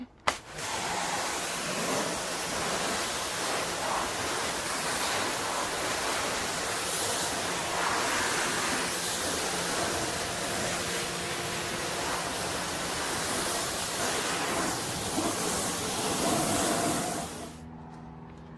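A powerful air blower blowing water off a 2018 BMW F80 M3 during a car wash roars in a steady broadband rush for most of the span, loud and close, then cuts off near the end.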